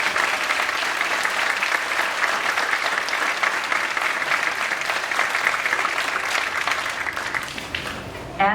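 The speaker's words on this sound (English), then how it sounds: "Please give them an extra round of applause" An audience at a fifth-grade graduation claps for the class's performance, a full, even round of applause that holds steady and tapers slightly at the very end.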